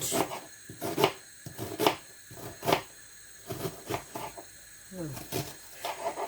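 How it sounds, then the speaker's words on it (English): Quick chopping of an onion with a sharp knife, a series of sharp close knife strikes against a board in an irregular fast rhythm, with a voice talking between cuts. "So I'm going to cut this onion very fast"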